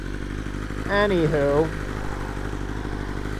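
A motorcycle passes by, its engine note rising and then falling as it sweeps past over about a second, heard over a steady low riding drone. A person says a word as it goes by.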